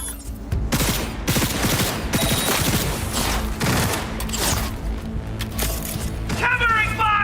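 Dense, sustained gunfire from many weapons in a Cyberpunk 2077 firefight, loud and continuous throughout with overlapping bursts and cracks, while combat voices shout over it.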